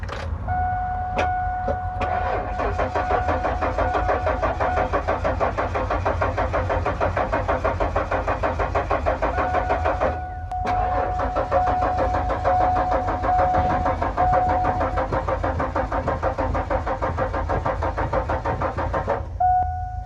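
A Ford LTD's engine is cranked repeatedly without catching. The starter whirs in two long, steady stretches with a brief pause between them, and no voices are heard.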